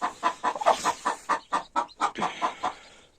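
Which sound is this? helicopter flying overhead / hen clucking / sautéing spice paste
hen clucking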